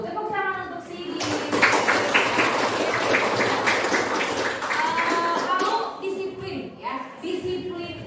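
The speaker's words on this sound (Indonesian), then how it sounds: "Tepuk tangan untuk Sidik." A classroom of students applauds a classmate, a dense burst of clapping that swells and then tapers off, with voices before and after.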